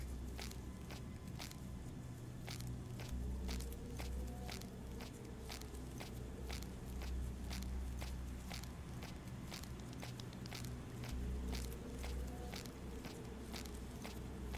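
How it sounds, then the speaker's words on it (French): Footsteps in the video game Golf Club Wasteland, a steady series of short, sharp steps repeating under a constant low ambient drone, with no talking. "Ce bruit de pas"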